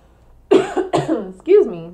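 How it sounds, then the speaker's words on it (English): Three sharp coughs in close succession, loud and close, with short pauses between them. "I hate coughing on the video."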